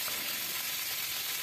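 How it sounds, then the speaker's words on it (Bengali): Cauliflower and potatoes frying in a pan make a dense, even sizzle heard up close, constant for the whole moment before it cuts off. "তো এটা আমার ভাজাটা বেশ প্রায় হয়ে এসছে, দেখাই যাচ্ছে"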